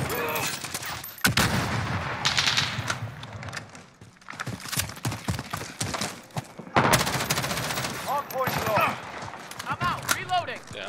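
Gunfire from the video game Modern Warfare, with repeated sharp shots and bursts scattered throughout at close range over game ambience and talk.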